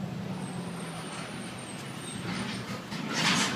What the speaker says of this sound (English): Truck's gonna make a lot of noise going by.